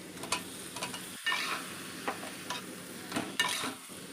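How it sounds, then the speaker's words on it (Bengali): Egg curry with boiled potatoes stirred in a pan, a soft simmering sizzle broken by repeated spoon scrapes and light clinks at an irregular pace, close and fairly quiet, with no talk. "এবার ভালো করে আমি মিশিয়ে নিচ্ছি"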